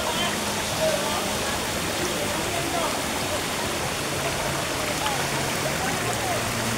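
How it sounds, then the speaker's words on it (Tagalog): A small waterfall in a river gives a steady, even rush of falling water that fills the scene from start to finish at moderate level, with faint voices mixed in. "mini waterfall"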